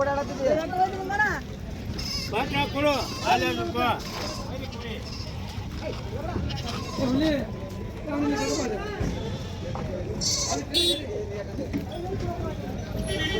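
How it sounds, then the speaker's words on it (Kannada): Goats bleat repeatedly amid the busy Bagewadi goat and sheep market, their wavering calls mixing with chatter from people talking nearby. "ಮೇಕೆ"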